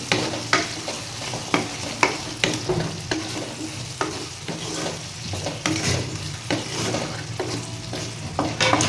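Brinjal pieces fry and sizzle in a pan for a spicy eggplant egg fry, with regular scraping stirs of a spatula over a constant hiss.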